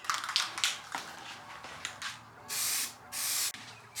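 Spray gun laying a second coat of paint on an R33 Nissan Skyline, heard as two loud, steady hissing bursts of about half a second each after some softer handling taps and noises.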